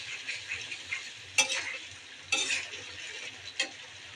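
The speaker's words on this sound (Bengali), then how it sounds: "এদিকে মশলাটা কষিয়ে নিচ্ছি।" Spice paste frying in oil with onion and green chili for a baim fish and eggplant curry makes a soft, continuous sizzle. Three sharper scraping stirs of a utensil against the pan cut through it, with no voices.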